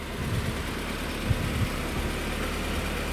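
A 1990 Toyota MR2 Mark II with an automatic gearbox runs at a steady idle, giving a low, even engine rumble with a few faint knocks. No one talks over it.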